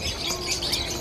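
Birds chirp and squawk at Sea Life Park on O‘ahu, Hawaii, a dense wash of calls set against busy outdoor background noise, with no clear speech.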